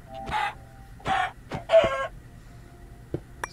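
Chicken clucks from the video game Minecraft, four short bursts spaced about half a second apart followed by a couple of faint clicks, loud and close with no talking.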